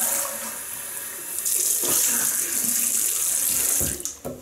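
Tap water splashing into a sink while a face is rinsed during a wet shave, a close steady rushing that grows louder partway through and then breaks into a few splashes as it stops.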